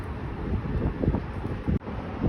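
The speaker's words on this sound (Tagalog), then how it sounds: "Mahangin guys, malamig." Wind gusting outdoors beside a waterway on a cool day, a steady rushing buffet against the microphone with a sudden brief drop near the end, no speech.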